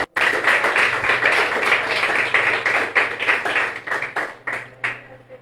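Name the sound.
congregation applauding in church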